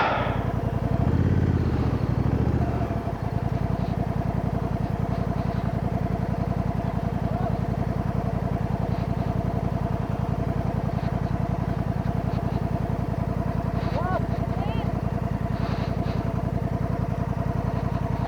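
A Honda Africa Twin motorcycle engine idles with a steady, throbbing drone, close and constant, with a brief rumble of louder revving at the start.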